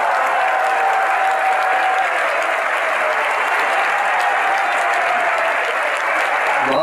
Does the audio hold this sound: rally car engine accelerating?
no